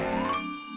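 A cartoon school bell gives a single bright ding that rings out with a sustained metallic tone and fades away quickly.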